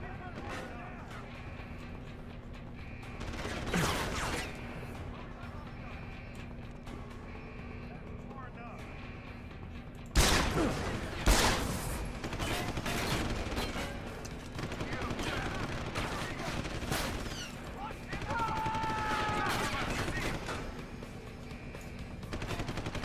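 Gunfire in the Deus Ex video game: repeated sharp shots and bursts crackle through a busy mix, with a loud blast near the middle followed by more scattered firing and game effects, while someone talks over it.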